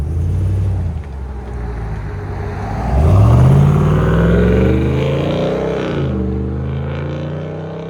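A 2022 RAM 2500 Power Wagon with a 6.4L HEMI V8 and a Flowmaster Outlaw muffler revs up close and loud, its deep steady idle rising into a sweeping climb that holds, then eases back down to a rumbling idle.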